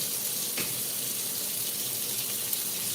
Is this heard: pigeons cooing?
no